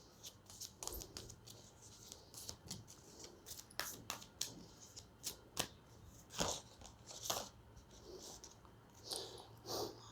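Tarot cards shuffled and drawn by hand in a quiet room, giving a run of soft, close, crisp flicks and slaps with short pauses between them.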